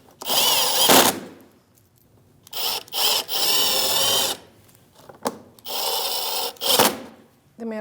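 Power tool driving bolts with a 7mm socket on a Chevrolet Malibu side bumper bracket, heard as several loud close whirring bursts of about a second each, separated by short quiet gaps.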